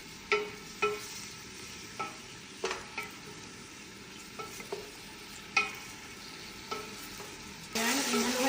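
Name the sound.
stirring onion frying in corn oil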